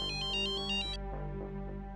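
A mobile phone ringtone sounds for an incoming call from a sister, a bright repeating electronic melody in short pulses for about a second, then cutting off, leaving low room hum and faint background music.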